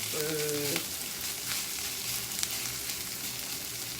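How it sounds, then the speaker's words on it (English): Tempeh sizzling and crisping in a hot frying pan, a steady crackling hiss that continues throughout with a few brief sharper pops. "You guys can hear it crisping."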